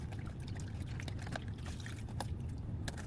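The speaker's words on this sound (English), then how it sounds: "And then wringing that out as well." Water streams and dribbles from stage suit pads as they are wrung out by hand, a steady close trickle with small splashy bursts and no talking.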